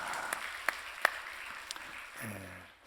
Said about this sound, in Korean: 우리 격려의 박수 한번 하도록 하겠습니다